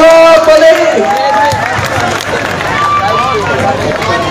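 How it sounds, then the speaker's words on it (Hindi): Crowd applause and cheering greet Nawab Malik at an outdoor political rally in Govandi Shivaji Nagar, a dense clatter of clapping mixed with crowd babble, loud at first and then easing. "जोरदार तालियों से इनका स्वागत कीजिए जनाब नवाब मलिक।"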